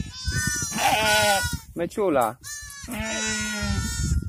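Heath sheep (Polish wrzosówka) and newborn lambs bleat in a farm pen during lambing. The harmonic bleats come in several loud, close calls, with people talking around them.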